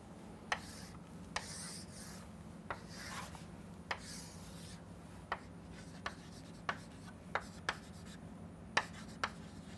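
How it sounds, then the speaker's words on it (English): A chalkboard eraser rubs across the board in repeated short strokes, faint and close, with soft swishes and periodic light knocks and no talking. "let me just erase the left side of the board"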